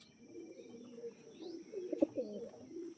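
Low, rolling coos from Andhra, Arshad and black-line breed pigeons rise and fall in soft pulses, swelling into a louder cluster of warbling calls partway through before easing off again.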